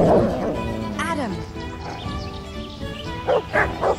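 A dog in Kingdom Come: Deliverance gives several barks and yelps, with whines and snarls, close and loud, while a player talks excitedly over the action.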